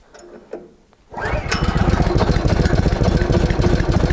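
A gasoline engine on a Woodland Mills HM130 bandsaw mill, run with the choke on, fires up after a few faint clicks and settles into a loud, steady, rapid putter close by.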